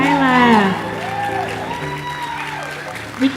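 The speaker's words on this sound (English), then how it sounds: "We can keep clapping." An audience at an annual arts showcase applauds, with clapping and a few whoops sitting under a sung or drawn-out voice.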